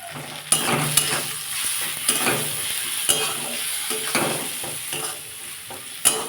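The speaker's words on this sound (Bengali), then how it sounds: "এটাকে ভালো করে কষাবো নাহলে জিরে গন্ধ ছাড়বে" Masoor dal tadka with cumin, chili and turmeric powders being stir-fried in a pan: a steady sizzle with repeated scraping strokes and occasional sharp clinks of a utensil against the pan, close and with no talk.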